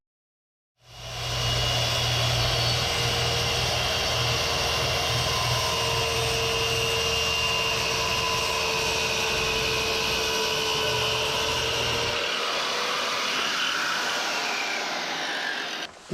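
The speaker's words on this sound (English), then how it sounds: "I've got the skill saw adjusted to the proper depth" A circular skill saw spins up loudly and holds a steady high whine through marked boards in a pole barn frame shop, running alone for about fifteen seconds as its low motor drone drops away near the end.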